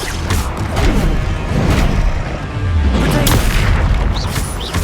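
Bombarda blasting spell in the Hogwarts Legacy video game, set amid ongoing spell combat: dense, loud booming and crashing impacts layered over a sustained rumble, with several heavy hits through the stretch and no talk.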